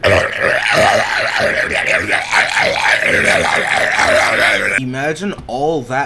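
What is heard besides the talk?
burp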